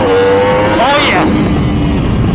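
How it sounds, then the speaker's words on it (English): A McLaren 720S supercar accelerates hard, its engine note rising in pitch through the revs and then dropping as it shifts, loud and continuous against heavy road and wind noise. "You can hear the McLaren. Listen to that thing."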